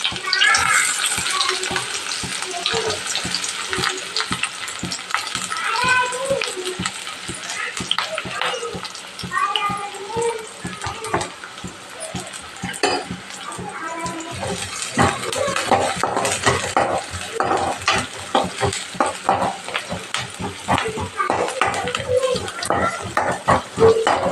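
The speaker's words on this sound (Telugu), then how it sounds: "ఆయిల్ వేడెక్కిందండి ఇప్పుడు మనము కట్ చేసుకున్న ఆనియన్స్ ఇందులో వేసుకుందాం" Chopped onions fry in hot oil for a street-style Maggi masala, giving a steady crackling sizzle close by that grows busier toward the end, with a voice talking over it.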